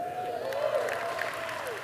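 Brief applause from a conference keynote audience at a pizza expo in Las Vegas, a short patter of clapping heard under a lingering tone, with a voice faintly in the room.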